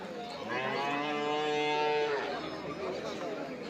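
A cow gives one long, loud moo lasting a couple of seconds amid a busy outdoor background hum at a cattle market.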